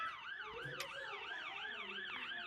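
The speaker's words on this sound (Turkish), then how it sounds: "Bak ambulans geldi." An ambulance siren wails in a steady up-and-down cycle, loud and continuous over a low background rumble.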